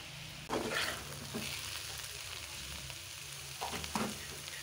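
Fish fries in a pan for a Bengali cumin curry with bottle gourd stems and green banana. A steady, moderate sizzle is broken by a few bursts of crackling as pieces are turned or lifted, with no talk.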